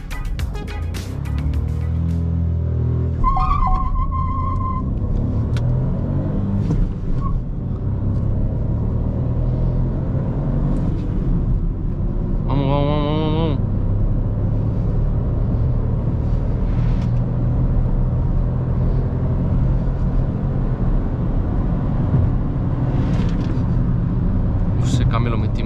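A Chevrolet Onix RS turbo runs on a race track, its engine a loud, sustained rumble with steady road noise from inside the cabin, a brief rising tone partway through, and a person talking over it.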